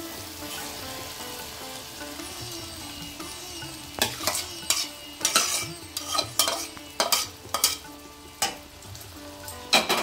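Chana dal tipped into spices frying in oil, a steady sizzle building as the lentils hit the pan, followed by a run of sharp clinks and scrapes from a spoon against the pot.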